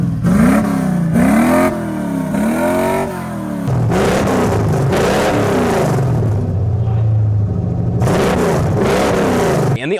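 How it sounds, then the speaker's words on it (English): A 1987 Chevrolet Squarebody truck with a Freedomatic exhaust revs hard and close, the engine rising and falling in repeated loud swells, then settling into a rumbling idle before another burst of revving. "we put an absolutely Freedomatic exhaust on the Squarebody."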